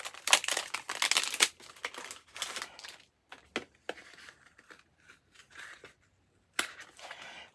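Plastic packaging crinkles and crackles in close, sharp bursts, busy at first, then thinning to sporadic rustles with quiet gaps and one last crackle near the end; no one speaks.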